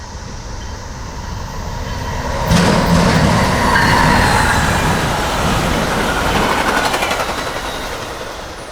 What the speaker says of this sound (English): Here comes our Amtrak train, Illinois Zephyr.